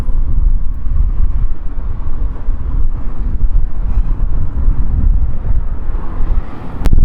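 Steady, loud wind buffeting the microphone, a continuous low rumbling roar with gusty fluctuations throughout and no voices.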